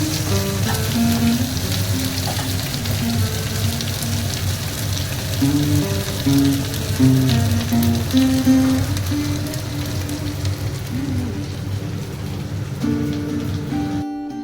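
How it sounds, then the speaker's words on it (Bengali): Spices fry slowly with mustard paste in a home kitchen pan, giving a steady, dense sizzle close by that holds level throughout, with faint clinks and no talking. "আস্তে আস্তে ভাজতে হবে"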